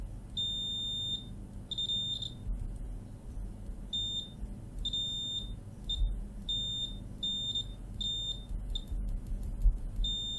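A Fluke 376 clamp meter gives its continuity-test beep as a series of short, high electronic tones, about a dozen in irregular bursts over a low background hum, close and clear.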